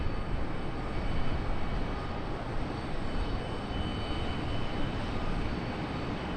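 Airplane at Charlotte Douglas International Airport, a steady broadband engine roar filling the whole clip at moderate distance with no talk.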